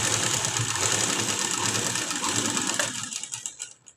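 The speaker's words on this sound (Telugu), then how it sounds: "ఇక్కడ నుండి ఇలా ఒక పాదం తేడాతోటి ఇలా స్టిచ్ అనేది వేసుకుంటూ రావాలి" A sewing machine stitches along a strip of cloth, whirring steadily and closely for about three seconds before slowing and stopping.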